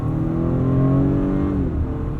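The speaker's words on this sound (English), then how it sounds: "Feel that super handling all-wheel drive there, clawing away at the pavement." A 2019 Acura RDX A-Spec with all-wheel drive accelerates hard, its engine drone loud and steady with rising harmonic tones, heard from inside the cabin with no voices.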